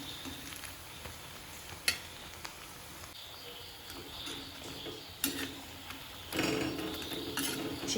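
Chicken pieces sizzle in hot oil in an iron kadai while a ladle scrapes and stirs, with occasional metallic clinks and a louder burst of frying near the end, close and without talk.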